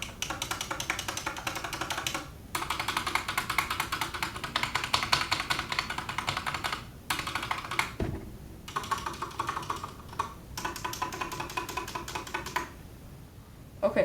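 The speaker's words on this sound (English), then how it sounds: "they sound good until you get to the stabilizer keys" Typing on an SK64 keyboard's stabilizer keys, loud, tappy clatter of rapid close keystrokes in long runs broken by short pauses.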